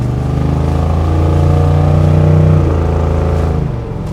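A 1970 Chevy C10 restomod truck with an LS engine swap accelerating hard, its V8 roaring loud and close, pitch climbing steadily through the pull.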